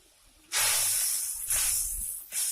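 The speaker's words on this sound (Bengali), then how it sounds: "মশলাটা ফুটছে এখানে।" Turmeric, chilli powder and slit green chillies hit hot oil with a little water in a village-style Bengali vegetable curry, giving loud broad hissing sizzle bursts that surge three times and settle, with no talking.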